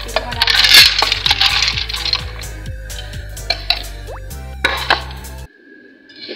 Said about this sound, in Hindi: दाल को हम पतीले में डालते हैं